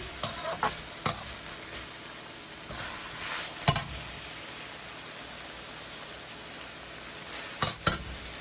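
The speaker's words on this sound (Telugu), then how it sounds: "ఇప్పుడు మనము ఆనియన్స్, పచ్చిమిర్చి, కరివేపాకు బాగా వేగినాయండి." Onions, green chillies and curry leaves fry in oil with a soft, steady sizzle, punctuated by a few sharp clicks and taps of a utensil against the pan, fairly quiet and close.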